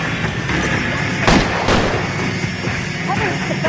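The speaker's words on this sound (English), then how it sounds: "Was that an explosion?" An explosion in the video game L.A. Noire, a sharp loud blast with a second burst shortly after, over a dense noisy backdrop of game sound with voices present.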